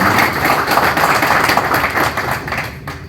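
Audience in Monaco applauding the Monegasque sculptor Belinda Bussotti at a prize ceremony, a steady, dense patter of many hands clapping throughout without pause.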